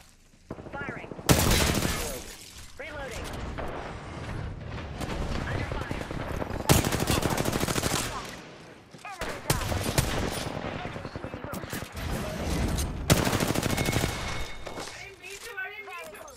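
Apex Legends gunfire comes in long, dense automatic bursts that land close and loud. Short pauses separate the bursts, and game sounds and a speaking voice are mixed in.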